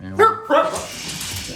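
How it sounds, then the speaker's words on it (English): Two quick, loud barks from pet dogs close by, followed by quieter vocal sounds and a brief word of speech. "Sorry about my dogs."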